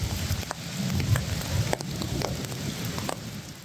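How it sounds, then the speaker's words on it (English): Steady rain falls across an open park with wet grass, a continuous soft hiss with scattered drop ticks, moderately close and alone with no talking. "the sound of rain mixes with the echo of laughter and footsteps on wet grass"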